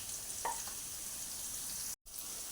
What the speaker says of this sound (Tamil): கட் பண்ணி வச்சுருக்கிற வெங்காயத்தை சேர்த்துக்கலாம் இப்போ வந்து அதை நல்லா கிளறி விடலாம்